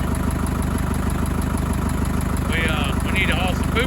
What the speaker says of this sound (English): We brought the tractor over here to hook this wagon.